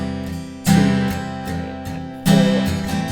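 Acoustic guitar strumming the chorus chords of a song, close and loud, with strong accented strums at regular beats and lighter strokes in between.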